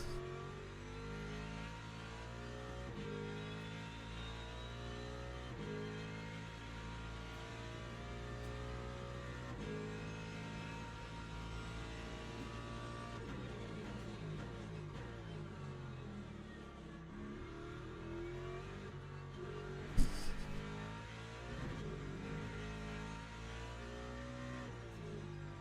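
A Ford Mustang GT3 racing engine in the game Le Mans Ultimate, at Fuji, accelerating through the gears with steady rising revs and shifts, close and continuous, with a brief sharp knock near the end.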